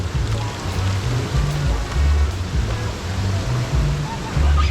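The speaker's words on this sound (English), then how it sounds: "we are going to strain off the hot water off of the fish" Hot water pours off boiled saltfish (codfish) beside a river in Jamaica, a continuous loud splashing wash with heavy low rumble throughout.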